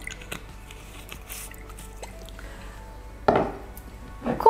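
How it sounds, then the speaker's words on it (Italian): White wine vinegar poured over fresh hand-torn dill and stirred in a bowl, giving soft wet squishes, drips and a light clink of utensils, with a louder splashy stir near the end. "Poi aggiungiamo un po' di aceto di vino bianco"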